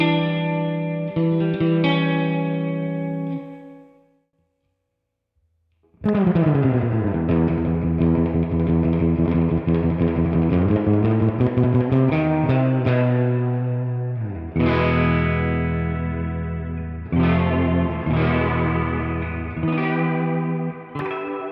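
Electric guitar through a spring reverb effect, sustained chords and notes ringing with a wet, splashy tail, a brief gap of silence, then repeated strummed attacks blooming into washy reverberation, loud and alone.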